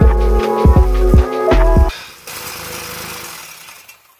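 A reciprocating saw (Sawzall) cuts through the exhaust pipe of a 2003 Toyota Corolla, giving loud buzzing bursts that start and stop a few times, then a rougher, quieter grinding hiss that fades out.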